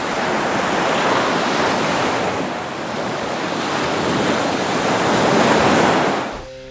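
Heavy ocean waves and gusting wind during a storm at sea around a massive steel container ship, a continuous loud roar of surf and wind swelling and easing before cutting off.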